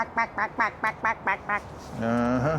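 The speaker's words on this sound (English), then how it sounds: "There's some duckies down there." Ducks on a river quack in a quick run of about seven evenly spaced calls, followed by a longer, drawn-out quack. The calls are close and clear, with a faint outdoor background.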